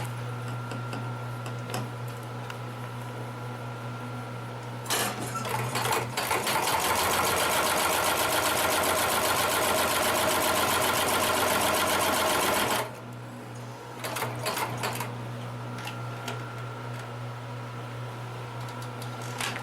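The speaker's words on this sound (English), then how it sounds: "see if we can get it to sew over some thicker material" A Consew 733R-5 extra heavy duty industrial sewing machine stitches through stacked thick saddle leather, running in a loud, steady mechanical chatter for several seconds between quieter idle stretches, with no speech.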